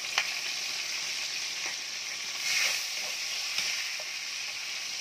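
Tomatoes hit a pan of frying garlic and onion for callos, setting off a steady, close sizzle with a brief louder surge midway and light stirring clicks, no voices.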